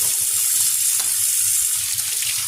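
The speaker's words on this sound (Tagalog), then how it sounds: "ipiprito ko lahat yan, pero ito, isisigang ko ito" Cheap market fish frying in a pan of hot oil, a loud, steady, close sizzle that holds unbroken throughout with no talking.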